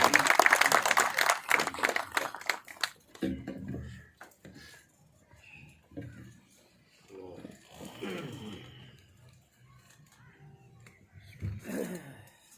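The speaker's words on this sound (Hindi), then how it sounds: "भरपूर तालियों में एक बार फिर इस्तकबाल कीजिए" An audience at a workers convention applauds to welcome a speaker, dense loud clapping for about three seconds that then fades into quieter room sounds, breaths and a brief spatter of claps.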